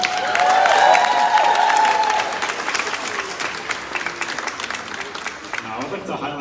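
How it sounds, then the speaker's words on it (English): Loud audience applause from a crowd filling a floor at Austin Community College, strongest in the first two seconds with some cheering, then thinning into scattered clapping. "So a round of applause for all of you."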